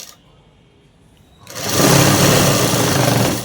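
A sewing machine stitching a folded pant hem starts after a quiet moment and runs in a steady, close, continuous whir to the end.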